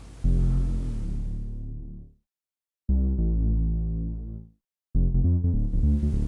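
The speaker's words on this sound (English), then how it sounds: "Without the arpeggiator it would just sound like this." A deep synth bass line, played without an arpeggiator, holds three long sustained notes, each about two seconds with brief silences between, the last note pulsing slightly.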